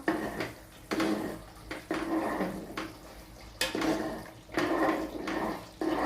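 A lid lifted off a pot of simmering shevla (dragon stalk yam) vegetable: metallic clanks and scrapes of pot and lid come in repeated short bursts over a soft bubbling and watery background, close by.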